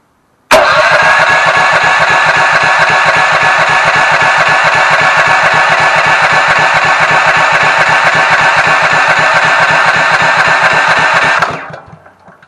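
Ridgid generator powered by a Honda GX390 engine, pull-started and then running loud and steady with a fast, even mechanical chug for about eleven seconds before cutting off and winding down.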